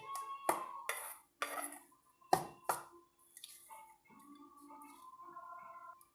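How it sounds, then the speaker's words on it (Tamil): Sweet wheat flour puttu being mixed in a bowl: several sharp clinks and scrapes of a spoon against the bowl, then softer rustling and stirring sounds, close up and fairly quiet. "இது போல் நல்லா எல்லா இடத்துலையும் அந்த இனிப்பு கலந்து வரும்படி நம்ம கலந்து விட்டுக்கலாங்க."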